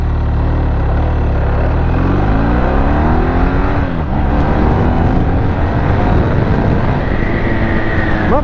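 A loud motorcycle engine revs up continuously, its pitch climbing steadily as it accelerates, heard close and without voices.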